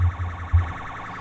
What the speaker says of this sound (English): As you can see, the sirens sound amazing.